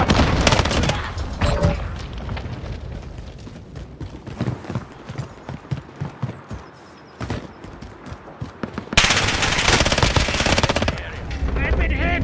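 Bursts of FINN LMG machine-gun fire in Modern Warfare 2019 multiplayer, loud and close, with rapid rattling volleys at the start and end and scattered shots and game sounds between.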